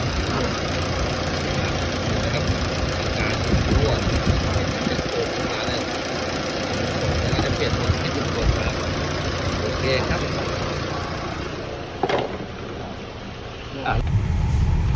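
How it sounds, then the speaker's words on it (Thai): A Mitsubishi Triton engine idling rough and shaking, a dense steady rumble with faint knocking and uneven vibration throughout, close by, with a brief dip and change near the end. "เครื่องสั่นกระตุกกระดุดครับ"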